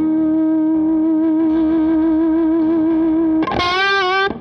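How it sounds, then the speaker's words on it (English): Semi-hollow electric guitar with P90 pickups, a Rivolta Combinata, holds a loud sustained distorted note that swells into feedback, then jumps to a piercing higher howl near the end, with no talking. "You can get that sort of feedback thing going if you want."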